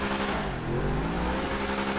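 A Vapid Caracara 4x4 truck in GTA Online revs its engine with a rising and falling growl, loud and close. Any exhaust backfire pops are hard to pick out.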